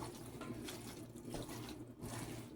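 Filtered water pours in a steady, faint, splashy stream into a cornbread dressing mix, running continuously with slight surges and no talk.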